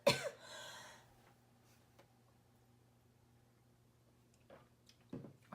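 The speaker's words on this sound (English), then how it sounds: "I'm very sorry about the coughing sound." A single sharp cough close up at the start, followed by near silence with a faint steady hum, then a couple of soft breathy throat noises near the end.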